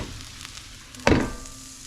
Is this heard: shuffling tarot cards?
no